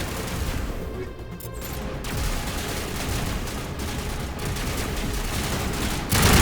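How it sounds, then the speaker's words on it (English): Dense assault rifle fire in the Mass Effect video game runs almost nonstop in rapid bursts, loud and close throughout with a sharper burst at the end. "Liara, are you using a damn assault rifle?"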